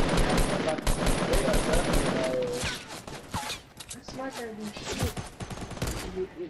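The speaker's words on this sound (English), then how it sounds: "Four people shooting." Gunfire in the battle royale game Fortnite: a loud burst of rapid shots in the first couple of seconds, then scattered single cracks as players talk over the fight.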